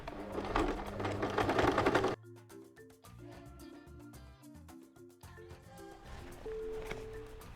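A sewing machine stitches along fabric for a dress, first in a loud dense burst of rapid needle strokes, then in a quieter, steadier run of clicking stitches with a faint hum beneath. No one speaks.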